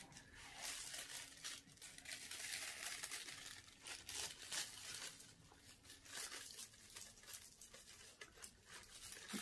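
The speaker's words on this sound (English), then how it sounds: "I'm going to squish this all up" Walmart cellophane bags are crumpled and squished close by, a dense, continuous crackling and crinkling that carries on throughout.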